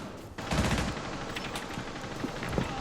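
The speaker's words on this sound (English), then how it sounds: "They both had to pull out their pistols." Rapid pistol gunfire from a Rainbow Six Siege match rattles on continuously and fairly loud, shots closely packed with no break.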